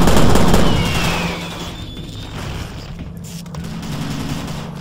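A heavy cannon weapon fires in the video game Prey, a loud close burst at the start trailing into rumbling sustained gunfire with a metallic whine over it.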